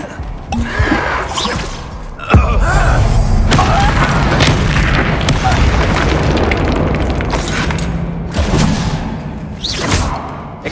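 A Bombarda spell in Hogwarts Legacy bursts with a loud, deep boom and a rumbling tail, among other spell effects and clatter, with brief gasping vocal sounds around it.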